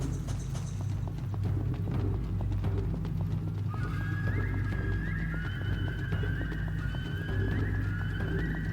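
Horse and cart in the PS3 game Genji: Days of the Blade: steady clip-clop hoofbeats with wheel rumble and a horse neighing, fairly close, over a low ambient drone with a sustained tonal whine rising in the second half.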